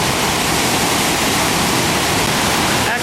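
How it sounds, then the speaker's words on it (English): Waterfall pouring with great force through a limestone cave, a loud, steady broadband roar of rushing water that fills the whole span without pause, close and continuous. "The force of this waterfall, as it comes through this limestone cave, is the impressive part."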